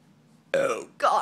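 Two burps in quick succession during a burping contest, a throaty belch followed by a shorter one, close and fairly loud.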